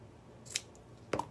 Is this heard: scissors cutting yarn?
yes